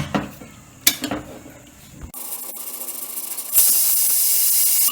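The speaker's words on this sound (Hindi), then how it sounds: "एक सीटी आ गई है।" A steady, loud hissing whistle of steam bursts from a pressure cooker cooking red lentil dal on a gas flame at full, following a few clinks of kitchen utensils.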